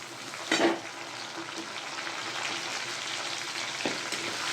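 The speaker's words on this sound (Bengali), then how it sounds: "এখন আমি টমেটো কুচিটা দিয়ে দিচ্ছি।" Chopped tomato frying in a pan gives a continuous close sizzle, with a brief louder burst near the start as the pieces hit the hot oil and a short stirring scrape near the end.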